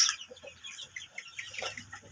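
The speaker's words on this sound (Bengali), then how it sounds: "এই মুরগিগুলোকে ডিমের রানী অরিজিনাল মিশরীয় ফার্মি মুরগি বলা হয়" Egyptian Fayoumi chickens, about two months old, cluck and chatter repeatedly on a poultry farm, a steady close flock murmur with no talking.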